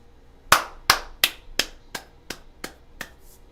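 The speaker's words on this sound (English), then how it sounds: "I'm gonna applaud this guy." One person applauds with eight sharp, evenly spaced hand claps that start loud and gradually fade, with no voices over them.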